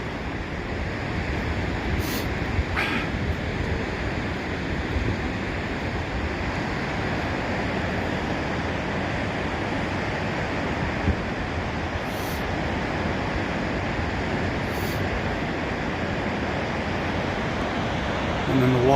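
Rushing water at the Niagara River whirlpool, a steady broad roar heard from a distance, unbroken and fairly faint throughout, with no talk.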